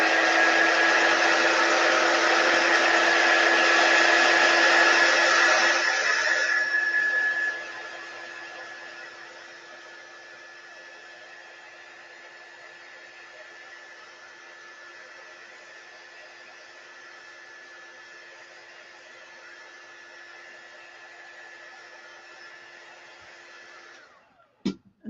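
A hair dryer blows steadily on a chalk transfer craft piece, loud and close for the first seven seconds, then drops to a quieter, lower-speed whir that hums on alone until a couple of clicks at the very end.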